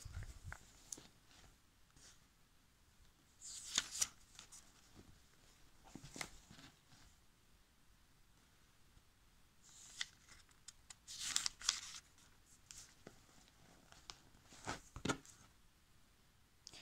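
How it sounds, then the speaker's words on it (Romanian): Pages of a thick Avon cosmetics catalog being flipped, giving soft papery rustles and swishes that come in several separate bursts, quiet and close, with no talking. "așa de greu este să le răsfoiesc, pentru că pur și simplu nu stau paginile acolo"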